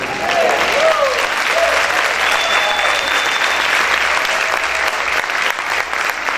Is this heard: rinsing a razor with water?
no